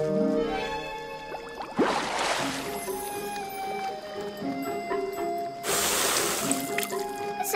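Broadband bursts of splashing in cold water, one around the two-second mark and another near six seconds, with steady dripping and trickling in between.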